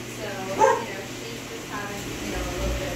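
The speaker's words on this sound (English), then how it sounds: "excuse the dogs" Dogs bark a few times in the background of a quiet residential neighborhood, one clear yip-like bark standing out, while someone talks over a low steady hum.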